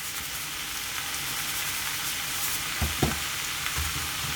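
Chicken and mushrooms frying in a pan over fairly high heat, giving a steady close sizzle with a few soft stirring knocks near the end.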